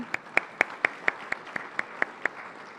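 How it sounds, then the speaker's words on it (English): A press event audience in Colorado claps in a slow, sparse rhythm, about ten distinct hand claps spaced evenly, fairly quiet and slightly distant, with no talk over it. "let's give a round of applause to one of my favorite members of the press, Joey Bunch"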